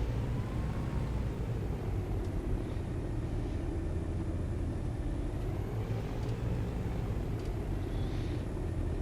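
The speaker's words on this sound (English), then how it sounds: "Oh, and that's a helicopter right there." Helicopter flying in the X-Plane flight simulator game, a continuous low rumbling engine and rotor drone that holds steady and fairly loud throughout, with no speech.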